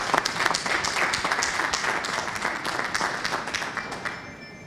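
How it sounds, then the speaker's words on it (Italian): Applause for Christopher at an Italian darts event: steady dense clapping from a crowd, moderately loud and continuous, thinning slightly toward the end. "Farei un applauso al nostro amico Christopher"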